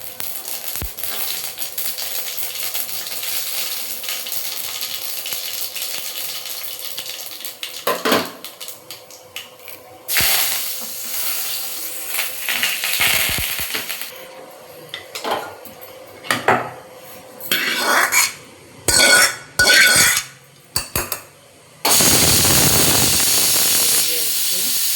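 Mustard seeds hitting hot oil while tempering chutney on a home stove, a steady hiss and sizzle with sharp crackling bursts and pops growing louder toward the end, alongside some clinking of pans and utensils.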